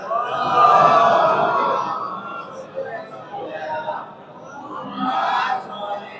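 A crowd at a religious celebration answers with a loud collective chant, rising in swells of many voices, fairly close, easing briefly and then surging again.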